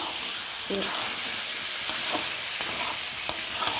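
Egg curry is stirred into a spice mixture in a hot pan, giving a constant sizzle broken by a handful of sharp utensil taps and scrapes spaced about a second apart.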